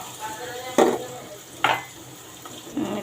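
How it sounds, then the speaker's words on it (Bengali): Onions frying in a pan, a steady sizzle under three sharp stirring scrapes of a spatula, close by, with no talk. "এদিকে আমার পেঁয়াজটা বেশ ধরতে থাক"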